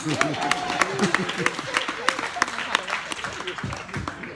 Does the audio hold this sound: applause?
yes